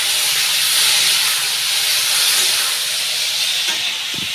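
Four or five chopped tomatoes with chopped ginger hiss loudly in hot oil, a dense, continuous sizzle close by with a soft knock near the end as they are stirred for a chutney.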